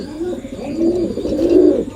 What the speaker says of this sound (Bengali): আর ওর ডাকটা অনেক অসাধারণ, আর কবুতরটা অনেক ভালো